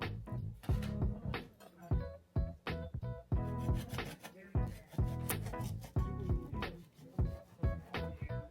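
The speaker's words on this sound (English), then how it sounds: "Got a sourdough sandwich loaf here, and we're just going to cut 1 thick slice" A knife saws through a sourdough sandwich loaf to cut one thick slice, a close rhythmic scraping of repeated strokes through the crust.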